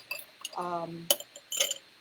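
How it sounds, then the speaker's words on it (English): Ice cubes clink and rattle into a tall Collins glass during cocktail preparation, giving a few sharp glassy taps close by with a brief voice-like tone between them. "you start by filling your glass with ice"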